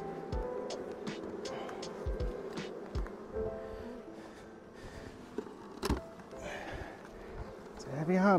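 Honeybees swarm around a heavy, strong hive in Western North Carolina during the sourwood nectar flow, a steady buzzing drone near the microphone with some handling knocks and a brief voice.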